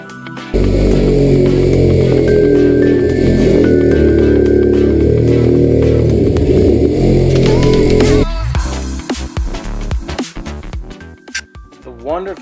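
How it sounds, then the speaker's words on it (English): Reciprocating saw cutting off a large chunk of fiberglass from a boat hull near the motor mount, a loud, continuous buzzing rasp for about eight seconds, then stopping into scattered clunks and handling noises. "The wonderful sound of sawzalling off a big chunk of fiberglass."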